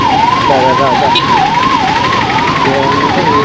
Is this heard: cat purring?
no